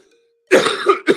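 A man coughs twice, sharp and close, after a moment of silence, the second burst shorter than the first.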